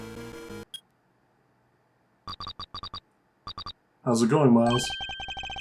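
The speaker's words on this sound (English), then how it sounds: "It's Judge Gavel's cell phone." A cell phone in the Ace Attorney Investigations video game gives a short electronic ringtone of clipped beeps in quick repeating bursts with silences between them. A voice speaks briefly near the end, followed by more rapid beeps.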